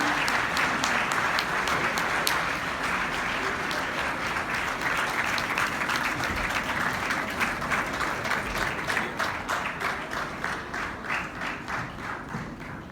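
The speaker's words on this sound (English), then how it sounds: "You can continue clapping for the little one as she makes her way onto the stage." An audience at an education conclave keeps clapping as a young girl walks onto the stage, a full crowd applause that settles into a steadier, more rhythmic patter before thinning toward the end.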